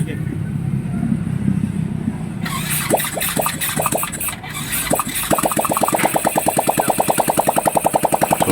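Motorcycle engine with no exhaust pipe fitted, cranking with sputtering bursts and then catching into a loud, rapid, raw popping idle at close range, apparently in a repair shop.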